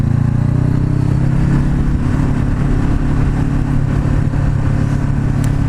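A Kawasaki Ninja 400 or Honda CBR500R motorcycle engine runs steadily and close, a low loud drone with slight revving swells and no voices.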